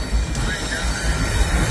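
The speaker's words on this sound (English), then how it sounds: "We got a Union Pacific locomotive." A Union Pacific locomotive passes near a railway in St Paul, heard as a loud, steady rumble with a harsh, broadband rail roar throughout and no talking.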